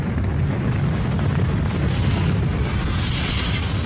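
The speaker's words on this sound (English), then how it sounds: "We have ignition." A rocket ignites and lifts off in an animated series: a loud, continuous, rumbling roar with heavy low-end boom that holds steady throughout, hissing brighter toward the end.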